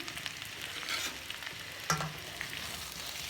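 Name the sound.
bitter gourds (karela) stirred and frying in a pan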